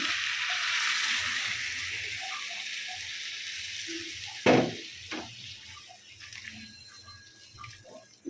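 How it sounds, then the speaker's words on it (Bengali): Hot water pours into a pan of frying vegetables with shrimp, potato and drumstick stems, a steady rushing splash with a sharp sizzle burst midway, close and fairly loud. "এখন অ্যাড করে দিচ্ছি গরম পানি"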